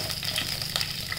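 Mustard seeds and garlic hit hot oil with a close, steady sizzle and faint popping crackles, a brief burst of frying with no talking.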